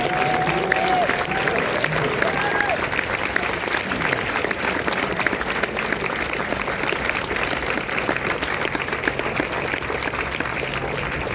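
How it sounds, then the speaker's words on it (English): A large audience at a Marine recruit graduation claps steadily and densely for several seconds, with scattered cheers and a voice briefly carrying over the applause. "Ladies and gentlemen, a round of applause."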